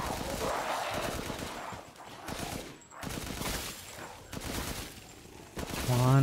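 Rapid bursts of automatic gunfire from a 30-round rifle in the video game Resident Evil Village, loud and dense, with brief pauses between volleys and some spoken remarks mixed in.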